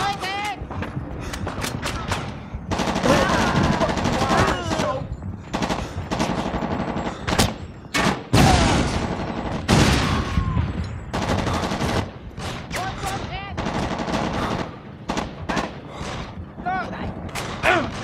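Rapid machine-gun bursts and gunfire from the war shooter Shellshock 2: Blood Trails, loud and close, stuttering in clusters with sharp cracks and mechanical clatter, over muffled game voices.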